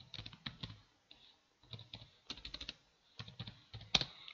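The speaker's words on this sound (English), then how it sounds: "I'm just typing image matrix" Someone types on a computer keyboard during a programming session, with uneven bursts of key clicks and short pauses and one sharper tap near the end. The typing is close and clear, with no talk.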